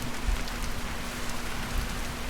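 Steady rain falling outdoors, an even dense hiss with a faint low hum and a couple of soft thumps, no voices.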